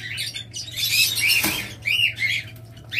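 Small pet parrots such as lovebirds, cockatiels or budgerigars chirp in bright, close bursts, several trilling calls overlapping with a brief flutter in the middle, alone without any voices.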